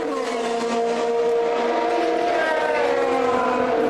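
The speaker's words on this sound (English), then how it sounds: "Look at Sparafico closing up on the race leader" Formula 3000 race cars at Imola in 2002 make a loud, sustained high-revving engine whine. The pitch rises and shifts as the cars pass, heard from the trackside broadcast.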